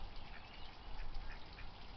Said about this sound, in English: My ducks are doing their thing.